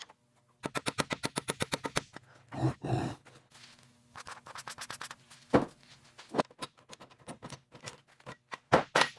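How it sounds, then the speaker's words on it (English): Rapid mechanical ratcheting clicks, then sharp cracks and metallic scrapes as rusted engine main cap bolts break loose, close by, with pauses between bursts. "Listen to that crack. That's the sound of 30 years of rust finally letting go."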